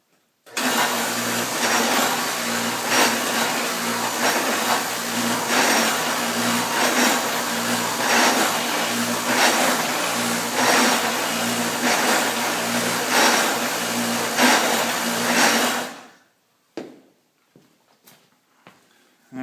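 Line boring machine boring a tractor axle: a loud, steady mechanical whirring drone runs for about sixteen seconds, then cuts off, leaving a few faint clanks.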